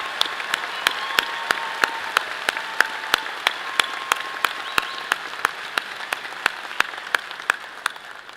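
A commencement audience applauds graduates at a college ceremony, with steady, evenly spaced claps that sound like a few nearby hands standing out over a broader crowd and taper slightly toward the end.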